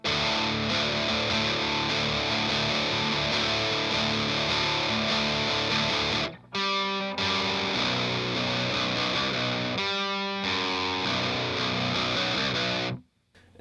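A heavily distorted electric guitar plays a riff from a song, loud and dense, with a brief stop partway through and chugging sections before it cuts off at the end.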